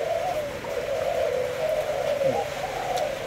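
A Thai spotted dove coos in a steady, low, rolling call that runs throughout, close and clear with faint background noise and no talking.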